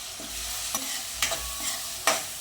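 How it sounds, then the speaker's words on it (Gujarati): Poha with lemon juice and sugar being mixed in a pan, soft scraping stir strokes over a light sizzle, with three distinct louder scrapes, close by and without speech. "બધું સરસ મિક્સ કરી લઈએ"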